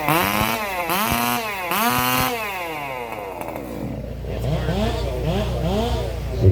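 Several racing chainsaws warm up together at the Sawfest race event, revving loudly in repeated rising and falling bursts that overlap, with other saws close by and farther off.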